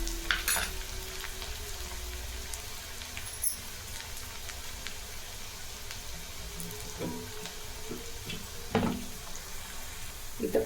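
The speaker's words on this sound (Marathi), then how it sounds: "2 ते 3 मिनिट परतून घ्यायचं आहे तेलात गोल्डन ब्राऊन होईपर्यंत" Onions fry in oil until golden brown for Maharashtrian masoor dal amti, giving a steady close-up sizzle with occasional stirring scrapes and clinks, and no talking.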